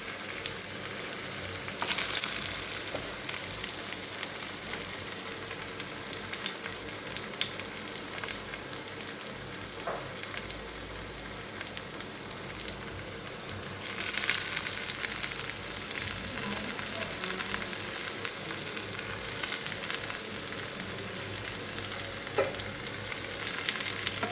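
A snack fries in shallow oil in a pan with a continuous close crackling sizzle, rising briefly louder midway, with occasional stirring scrapes and no talk.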